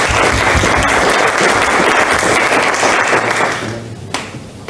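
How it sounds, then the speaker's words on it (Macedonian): A hall audience after a film screening claps in loud, sustained applause that thins out and stops near the end, with a few last scattered claps. "И да ги поздравиме со еден голем аплауз."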